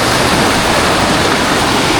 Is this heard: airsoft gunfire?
no